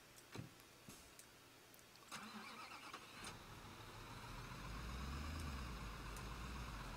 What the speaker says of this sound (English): let's drive our truck back there